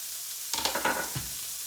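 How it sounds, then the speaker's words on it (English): A piece of food drops into a hot pan, bringing a short cluster of crackling and spitting over a constant background hiss, close and fairly quiet. "The pan should be hot enough. I'm just going to drop this into the pan"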